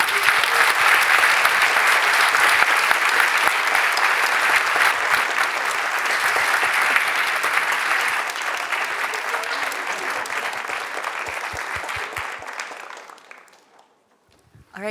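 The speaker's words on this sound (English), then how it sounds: "Please join me in another round of applause." Audience at a pitching competition applauding the jury prize winner: a large room of dense, sustained clapping that holds steady, then thins out and fades to near silence at the end.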